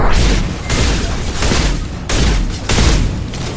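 Flashbang grenades go off in a video game, a series of loud, close booming bursts that swell and fade in waves, with dense blasts clustered near the start and middle.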